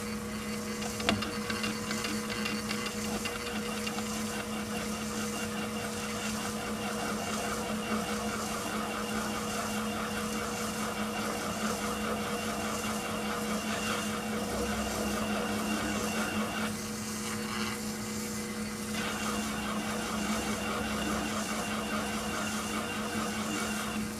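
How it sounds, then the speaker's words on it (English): End mill on a metalworking machine flattening a metal shoulder, a continuous steady whirring cut with an even machine hum throughout, close and uninterrupted, no talking. "I'll bring you back to just flatten that shoulder off with the end mill."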